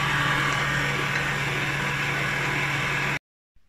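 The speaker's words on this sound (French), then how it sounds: "la viande, elle a fait ce qu'elle avait à faire dans son hachoir" Electric meat grinder mincing meat for Cypriot sheftalia, a steady loud motor whir running evenly for about three seconds before cutting off abruptly into silence.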